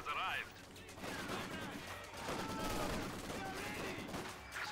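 Maxim machine gun fire in Company of Heroes 2, a dense run of rapid gunfire and battle noise that never lets up, with a voice talking over the top.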